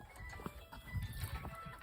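Soft hoof clip-clops at close range, a few scattered steps over low rumbling farmyard noise, with no voices.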